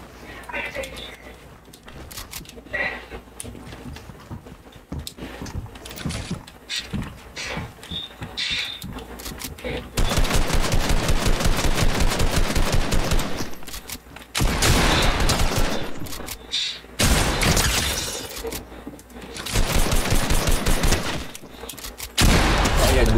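Rapid bursts of gunfire in the video game Fortnite, loud and repeated in volleys separated by short gaps, with a voice talking between and over the shooting.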